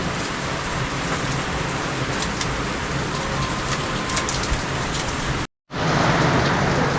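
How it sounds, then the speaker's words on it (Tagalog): Heavy rain pours steadily in a dense, loud wash, with a brief cut to silence near the end before the downpour resumes. "Wala pa rin pong tigil ang pagbuhos ng ulan hanggang ngayon."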